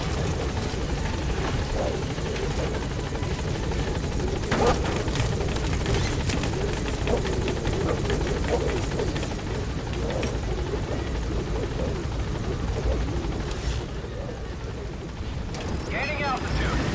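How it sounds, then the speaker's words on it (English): Helicopter from Metal Gear Solid 5: The Phantom Pain, a loud, steady rotor and engine drone that fills the whole stretch and eases slightly near the end, with talk faintly underneath. "Now into the chopper."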